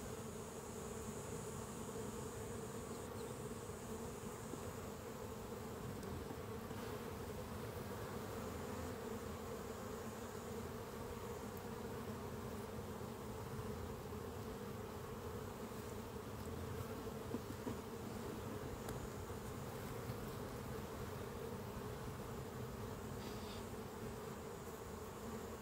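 Honeybees buzzing around an open beehive during hive work, a steady low hum of many bees throughout with faint handling noises and no talk.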